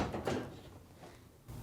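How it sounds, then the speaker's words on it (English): A bottom freezer drawer is tilted, pushed back off its locking tabs and lifted out of a Whirlpool refrigerator, giving a few short plastic-and-metal knocks and scrapes at close range, the clearest near the start and a final clunk at the end. "to remove the bottom drawer, tilt up on the front, push to the back to release the locking tabs,"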